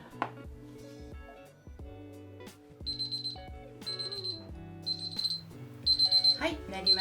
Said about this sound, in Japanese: そしたらねタイマーが鳴るのを待ちましょ